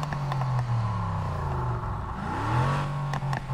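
A Nissan 350Z engine revs in a Need for Speed Underground 2 remake trailer, with a low engine tone that swells, falls and climbs again over a few seconds, alongside some whirring and clatter.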